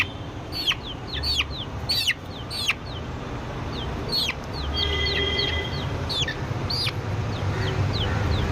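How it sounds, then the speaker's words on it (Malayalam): Native chickens cluck and crow in repeated sharp calls at a roadside poultry sale where guinea fowl and laying hens are also on offer, with steady low background noise and no talk. "നാടൻ കോയിണ്ട് പയോമുണ്ട് മുട്ടക്കോയിണ്ട് ഗിനിക്കോയി ഉണ്ട്"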